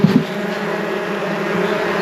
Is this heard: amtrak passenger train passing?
no